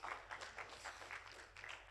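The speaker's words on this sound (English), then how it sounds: "y'all give him another round of applause" A church congregation claps during a Sunday morning service, a soft, steady patter of many hands that sounds somewhat distant and even throughout.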